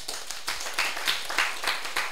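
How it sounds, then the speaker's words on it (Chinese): An audience at a lecture gives a short burst of scattered hand clapping, a quick uneven patter of claps at moderate volume in a room, with no voices over it. "家己鼓掌一下"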